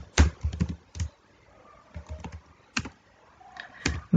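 Close, crisp typing of C++ code on a computer keyboard, quick clusters of key clicks separated by brief pauses, with no talking.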